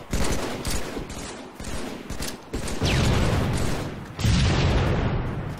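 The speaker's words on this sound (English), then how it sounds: "Some of those shots were off." Gunfire in Halo 3 multiplayer, repeated loud shots and booming impacts in quick succession, dense and close with short breaks between bursts.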